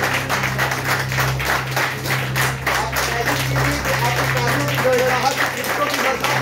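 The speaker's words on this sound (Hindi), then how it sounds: "तालियों की गड़गड़ाहट" Dense, sustained clapping from an audience filling an indoor hall, steady and loud throughout with a low hum underneath and no clear pauses.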